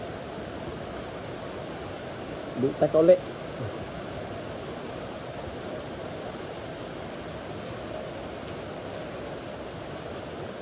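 Heavy rain falling steadily as a dense, even hiss throughout, with a brief burst of nearby voices partway through.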